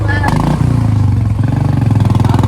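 A Bullet motorcycle engine runs with a steady low thumping pulse on a road near Matepani, loud and close throughout.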